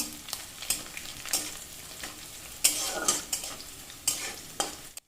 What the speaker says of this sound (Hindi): अब इसमें हमें अजवाइन हाथों के सहारे क्रश करके हमें डाल देना है। अब इसे हल्का सा हमें भूनना है।